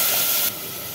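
Tamarind juice hits a hot, fried sambar base with hing, giving a sharp burst of sizzling hiss that drops to a quieter steady sizzle halfway through the brief moment.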